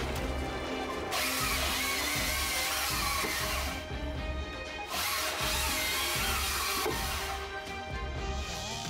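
A Stihl MS 500 chainsaw working through giant blocks of wood with heavy logging machinery, a loud, continuous broadband engine roar with surges and brief dips as cuts progress, no talking.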